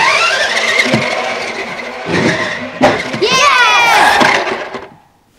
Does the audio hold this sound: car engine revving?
yes